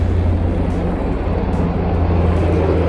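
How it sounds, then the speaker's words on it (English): A helicopter flies overhead out of sight, a steady low engine rumble and rotor drone that stays loud and even throughout. "Got a helicopter flying in the back,"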